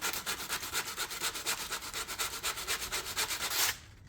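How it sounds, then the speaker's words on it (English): Close, steady back-and-forth sanding of the edges of a wooden hiking stick, brisk rhythmic rasping strokes at an even pace that stop abruptly near the end. "Sand it a little bit. Get these edges off a little."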